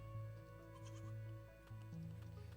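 Sheep bleat in the video game Crea, with several wavering bleats layered over a steady low hum and background game ambience, fairly quiet overall.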